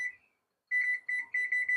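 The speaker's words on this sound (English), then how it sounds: "Timer." A kitchen timer on an oven set to 425 degrees beeps in a short opening chirp, then after a pause in a rapid repeating series of bright electronic beeps, close and clear.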